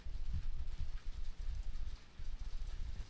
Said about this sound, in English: oh, that's hail. That's hail. That's hail right now.